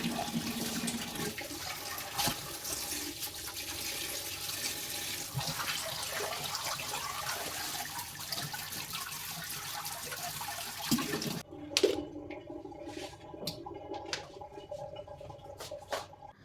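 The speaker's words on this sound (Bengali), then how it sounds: "ডাইরেক্ট কলটা ছেড়ে টমেটোগুলোকে আবারও খুব ভালো করে ধুয়ে নিচ্ছি" Tap water pours steadily from a kitchen faucet while tomatoes are rinsed under it, a continuous soft splashing hiss that cuts off near the end, leaving a few drips and light handling noises.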